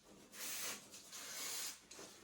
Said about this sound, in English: you use some brake cleaner, you spray here